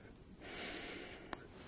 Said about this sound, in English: Have a good sniff.